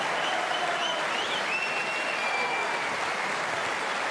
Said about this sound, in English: Jack Jones accepting the applause